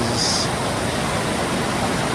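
A rushing mountain stream at a trail water crossing in Yosemite gives a steady, dense wash of water noise, close and unbroken, with no voices.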